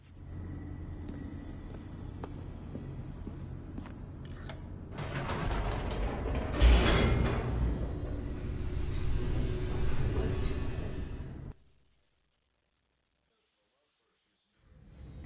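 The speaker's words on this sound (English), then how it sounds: "The elevator raced downward, plummeting towards an unknown fate." Elevator descending in the video game The Stanley Parable, a rumbling mechanical rattle and creak that swells loudly mid-way, then cuts to silence near the end.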